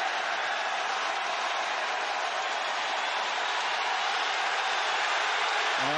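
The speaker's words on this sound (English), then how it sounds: "Well, that's got the crowd going." A basketball arena crowd at a college game, Texas Tech against Texas, roars in a loud, sustained cheer that fills the whole stretch with dense, steady noise and no break.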